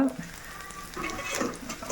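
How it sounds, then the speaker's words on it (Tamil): Hot oil sizzling and crackling steadily as mustard seeds pop, with some brief stirring noises and faint background sounds. "கடுகு தாளிக்கிறோம்"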